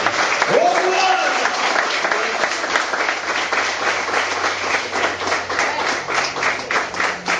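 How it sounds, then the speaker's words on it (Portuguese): Applause from a church congregation in a maximum-security prison, a dense steady patter of many hands clapping over several seconds with some crowd voices mixed in. "Quem crê, uma salva de palmas ao Senhor Jesus"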